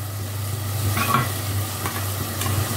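A spice paste of ginger, garlic, salt, turmeric, chili, coriander and cumin fries in a pan for beef with chana dal, giving a soft, even sizzle with a few light stirring scrapes over a low steady hum.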